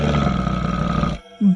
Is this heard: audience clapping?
no